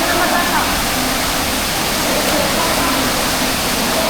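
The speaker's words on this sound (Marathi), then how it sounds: "बघा मित्रांनो वॉटरफॉल" A waterfall near a river rushes in a loud, continuous broadband roar that stays constant from start to finish, with no breaks.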